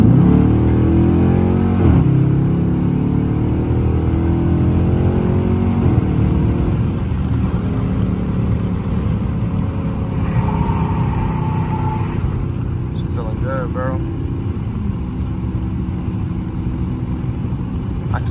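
Dodge Charger R/T accelerating hard on a highway in the early morning, a loud, steady engine drone rising through a pull and filling the cabin, with no talk over it.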